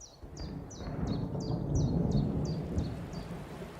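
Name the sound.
heavy rain and thunder in Devon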